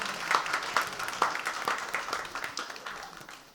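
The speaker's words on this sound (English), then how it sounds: "Give him a round of applause for that, please." A church audience at an afternoon program gives a moderate round of applause, clapping fairly steady then tapering off toward the end, with no talk over it.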